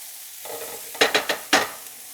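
Garlic and onion hitting hot olive oil over medium heat, a quiet sizzle followed by several sharp stirring scrapes and bursts of frying close by.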